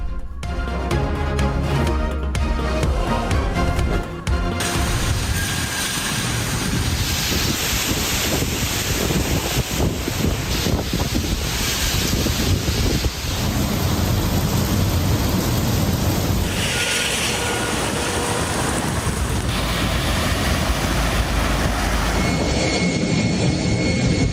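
A heavy rainstorm in the UAE roars as a dense, constant wash of rain and wind, with buffeting gusts and broadband noise that stays loud and unbroken throughout.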